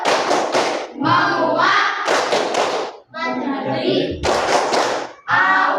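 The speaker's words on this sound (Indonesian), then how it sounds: "Biar tambah semangat lagi, kita tepuk hujan" A class of fifth graders doing the 'tepuk hujan' rain clap game, with bursts of loud, rhythmic group clapping that alternate with a teacher speaking and children chanting the verses.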